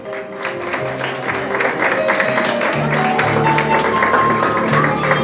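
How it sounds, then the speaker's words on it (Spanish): Applause fills a fifteenth birthday celebration as the shoe godmother is called up, a steady dense wash of many hands that swells and holds, with music and voices murmuring underneath. "Fuerte el aplauso, por favor."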